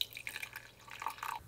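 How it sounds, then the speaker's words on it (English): Brewed coffee pours from a Cosori pour-over coffee maker in a steady, quiet liquid trickle with small splashy drips, close and alone without talk. "Alright, so now let's pour it out and have a taste."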